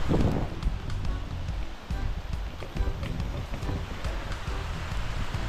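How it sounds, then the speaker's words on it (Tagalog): Dense, continuous rainfall pours down with a constant broadband hiss, some scattered patters and rustles, and no clear talking. "Sobrang lakas ng ulan"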